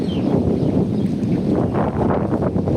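Cold wind blows steadily on the Meghna riverbank, buffeting the microphone with a continuous low rumble and occasional gusts.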